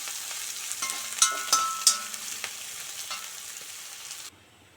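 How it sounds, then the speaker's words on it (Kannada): Chopped onion hits hot oil with cumin seeds, setting off a close sizzle with a few sharp crackling spits early on, then a softer steady fry before cutting off abruptly. "ಈರುಳ್ಳಿಯನ್ನು ಬಾಡಬೇಕು."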